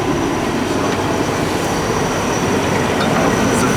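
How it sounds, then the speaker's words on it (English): A 2001 Chevy Express 1500 passenger van's 5.7-liter V8 runs at a steady idle, a dense continuous rumble and hiss, loud and close for the whole short stretch. "The car is running. The van is running."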